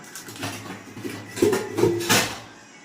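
Metal pots clank and knock together a few times, with light scraping between the clatters, fairly close and moderately loud.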